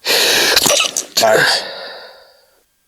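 A person sneezes loudly and close by, two sharp bursts, outdoors in a field during a Wisconsin turkey hunt; a brief spoken word follows and the sound then fades to quiet.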